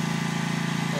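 A Gravely lawn mower drones steadily and close by while mowing stripes into a home lawn, its engine hum even and unbroken.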